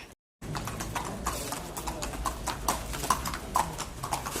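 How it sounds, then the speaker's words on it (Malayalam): Horse hooves clip-clop at a steady walking pace on a hard surface near a flower show in Ooty, with faint background noise and a brief silence at the start. "കുതിരാണോ?"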